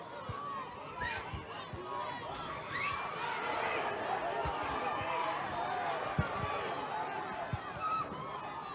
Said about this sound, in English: the crowd really starting to come into it